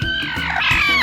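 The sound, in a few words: sick chicken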